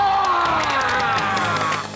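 A brief burst of applause and cheering from a group, lively and close, fading slightly at the end.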